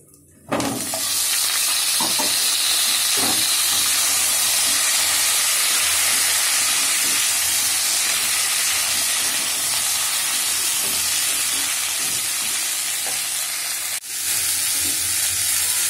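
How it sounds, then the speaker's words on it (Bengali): Potato, eggplant and tomato frying in oil spiced with green chilli and radhuni for a fish curry, a loud, dense hiss and sizzle that starts abruptly and continues steadily with occasional stirring knocks. "এর মধ্যে আমি আলু, বেগুন, টমেটো খুব ভালো করে ভেজে নেব।"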